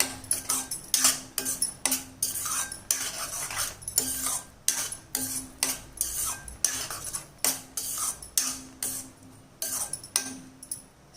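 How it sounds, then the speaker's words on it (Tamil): A spoon stirs grated coconut into Thiruvadhirai kali in a metal pot, repeated scraping strokes and clinks in an uneven rhythm, close and clear with no speech. "தேங்காய் பூ சேர்த்து நல்லா கிண்டி விட்டுடலாம்"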